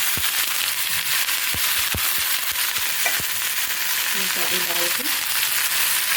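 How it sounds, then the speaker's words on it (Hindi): A homemade cough-and-cold remedy mixture hitting hot ghee in a pan, giving a loud, continuous frying sizzle with scattered crackles and pops, while someone briefly speaks over it. "घी डालने के बाद ये जो हमने मिश्रण करके रखा है ये भी"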